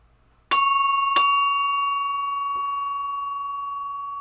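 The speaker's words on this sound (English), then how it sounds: "and she's got a good ding to her" A newly installed bell on a 1962 Williams Vagabond pinball machine dings twice in quick succession, each strike loud and close, followed by a long, clear ringing decay and a soft tap.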